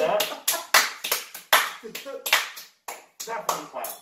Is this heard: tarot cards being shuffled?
no